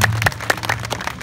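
Rhythmic hand clapping at a Punjabi devotional song gathering, several sharp close claps in a steady beat.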